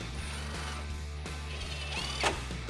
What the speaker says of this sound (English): Grab your 10mm socket and tighten these down.